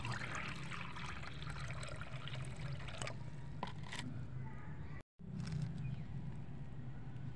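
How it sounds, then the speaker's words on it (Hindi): Water poured into a clay bowl for birds in a street garden: a faint, continuous trickling splash lasting several seconds, with a momentary break near the end and no clear talk. "सबसे पहले जी हम चिड़ियों को पानी डालेंगे।"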